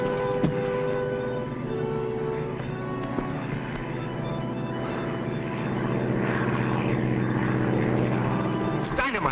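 Propeller airplane droning overhead with a steady engine hum that swells slightly and then fades near the end, heard under and between voices.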